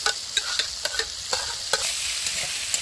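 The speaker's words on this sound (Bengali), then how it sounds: "তো এখানে হাত দিয়ে ম্যাশ করা আলুগুলোকে এখানে ঢেলে দিলাম" Hand-mashed potatoes are stirred into a frying pan with onion, tomato and chili, giving repeated sharp scraping clicks over a soft steady sizzle, close up and without speech.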